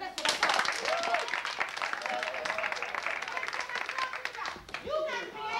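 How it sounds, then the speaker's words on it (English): A small group claps quickly in a loose, uneven patter at moderate distance, with voices talking and calling out over it. "Give him a hand clap"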